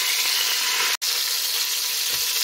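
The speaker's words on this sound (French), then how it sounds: "Une fois que je constate ma viande à bien brunir, je vais retirer l'huile de ceci." Lamb meat browning in hot oil in a pan gives a steady, dense sizzle with one brief break partway through, heard close and alone.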